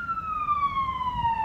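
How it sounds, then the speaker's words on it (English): A police siren wails loudly as an emergency vehicle passes on a nearby road, its tone sliding steadily downward in pitch throughout. "Wow, that siren's loud."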